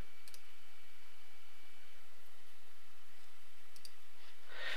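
Computer mouse clicks during a software installation, two or three faint, brief clicks spaced apart over a steady low hiss, with no voices.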